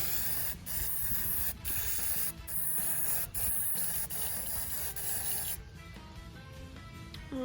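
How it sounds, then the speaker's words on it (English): Spray paint hisses steadily from an aerosol can onto a Knex model in a series of long bursts with short gaps, loud and close, easing off toward the end. "Alright, let's spray paint this."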